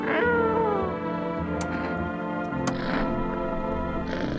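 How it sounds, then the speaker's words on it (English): A cat in the video game No I'm Not a Human meows and yowls repeatedly in a drawn-out, wavering call over a steady background, with a couple of sharp clicks. "Cat."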